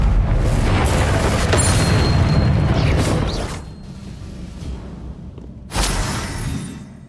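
A Confringo fire spell blast in the video game Hogwarts Legacy, heard as a loud booming burst with a rumbling tail, then a second sharp blast near the end, with no talking.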